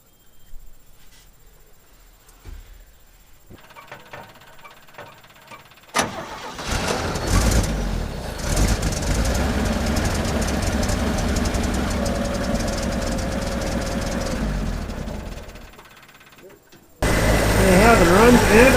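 A 1965 Chevy C10 truck engine cranks, then catches and settles into a steady, loud idle with a slight knock, with brief talking before it starts and a louder burst near the end.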